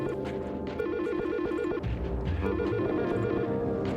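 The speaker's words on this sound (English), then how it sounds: "your phone will keep ringing until you hang it up personally" A phone rings in the video game Silent Hill: Shattered Memories, a loud electronic ringtone repeating continuously over a low ambient game background, with no talking.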